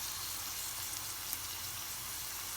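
Onions frying and browning in a pan, a dense continuous sizzle with fine crackle, steady and close throughout with no voices.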